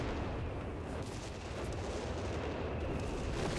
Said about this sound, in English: Big artillery coming on in.